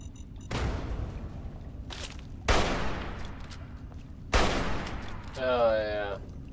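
Gunfire from the video game Fallout 3, several sharp shots and bursts that ring out and fade, loud and close, with a short warbling electronic effect near the end and no talk over it.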